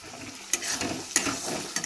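Chickpeas frying in a pan get stirred, a continuous soft sizzle broken by three sharp scrapes of a spoon against the metal, close and clear with no talking.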